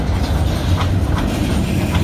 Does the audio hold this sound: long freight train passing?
yes